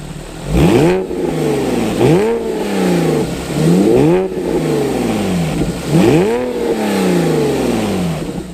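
A Porsche 911 engine with a center muffler bypass revs up sharply several times, each burst of exhaust roar rising and falling back to a rumbling idle, loud and close.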